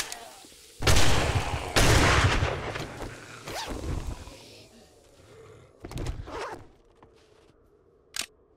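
Gunfire in 7 Days to Die comes as several loud, sharp shots spaced over a few seconds, each with a long echoing tail, followed by a fainter final shot.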